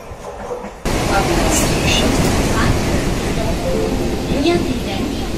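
A Mumbai local train on the Titwala to Boisar run, steady loud rumbling and rattling of the carriage on the tracks after a quieter opening moment, with voices murmuring faintly in the background.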